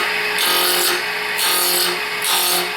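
A wood lathe spinning a workpiece at high speed while a skew chisel cuts, giving a steady whirring hiss that swells and eases in roughly one-second strokes, loud and close with no talking.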